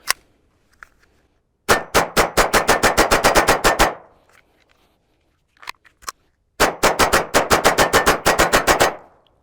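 A Walther WMP .22 Magnum pistol fires Critical Defense ammunition outdoors, two long rapid strings of sharp, loud shots separated by a pause with a few faint clicks.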